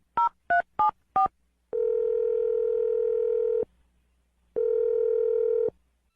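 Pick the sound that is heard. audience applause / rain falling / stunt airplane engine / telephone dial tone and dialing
telephone dial tone and dialing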